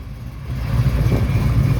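A Ford muscle pickup with a chambered exhaust idles nearby at a car show, a steady low rumble that swells slightly louder partway through.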